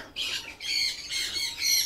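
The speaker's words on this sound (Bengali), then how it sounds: "ফিজেন্টের বাচ্চা আছে এখানে" High-pitched chirping calls from a silver pheasant chick, repeated in quick bursts with short gaps, fairly close and clear with no talking.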